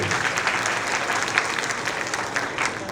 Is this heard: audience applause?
yes